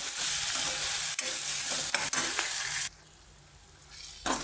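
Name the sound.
sautéing tomatoes and onions with salt in pan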